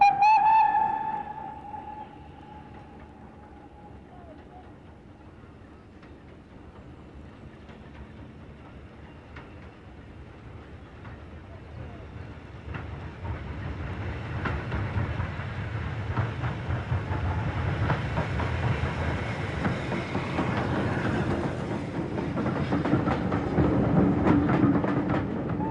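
Preserved British Railways steam locomotive No. 80079 running on the Severn Valley Railway, a short whistle at the start, then rolling rumble and clatter of the train building in loudness as it draws closer.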